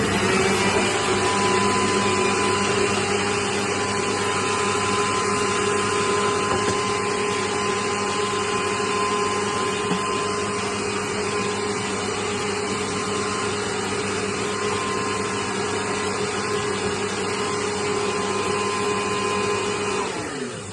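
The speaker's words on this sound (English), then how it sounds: "So the key to a perfect sponge is to get lots of air into the mixture. So we need the mixer." An electric mixer whisking sponge cake mixture runs as a loud, steady motor whine with a constant hum, continuous and unchanging for about twenty seconds with no speech over it.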